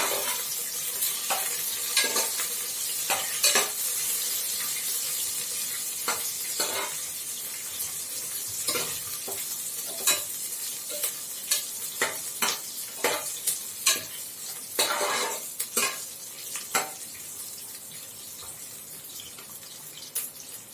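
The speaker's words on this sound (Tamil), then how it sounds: "இப்போ இது நல்லா வதக்கி விட்டுடலாம்" Dried red chillies and curry leaves sizzle steadily in a hot pan, with a run of sharp scraping and clinking stirring strokes that grow more frequent toward the end.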